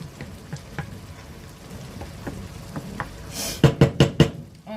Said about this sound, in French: On mijote, on mélange plutôt.